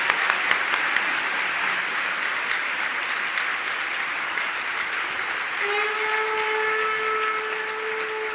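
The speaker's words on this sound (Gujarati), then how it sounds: "આપણે ફરીથી સ્વામીને તાળીઓના ગડગડાટથી વધાવીએ" Sustained applause from an audience at a Yogiji Maharaj birth anniversary gathering honoring Swami, a steady dense clapping wash lasting the whole stretch, with a faint tonal hum rising partway through.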